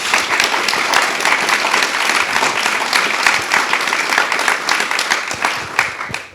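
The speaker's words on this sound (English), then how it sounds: "let's give them a round of applause for all of their service" A town hall audience at a bipartisan session on Wisconsin election security applauds its panelists, a dense, steady wash of many hands clapping close by for several seconds before fading at the end.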